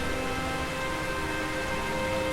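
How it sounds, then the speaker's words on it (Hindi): Heavy rain pouring down in a sudden storm, a dense, even, loud hiss of rainfall with no breaks. "तभी अचानक तेज आंधी और बारिश आ गई"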